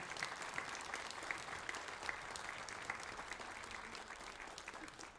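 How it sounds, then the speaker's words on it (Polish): Audience applause at a Silesian hit-song concert, a steady, fairly distant patter of many hands clapping for several seconds. "Wielkie brawa, zapraszamy."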